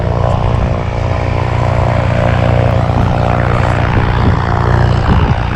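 A propeller airplane engine drones steadily and loudly throughout, a constant low throbbing hum with no pauses or voices.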